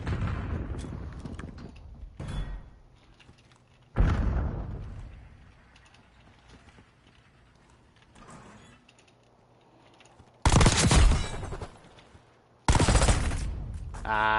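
Gunfire during a Search and Destroy match in Black Ops 6 on PS5, with loud separate bursts of shots and mechanical weapon handling sounds between quieter stretches.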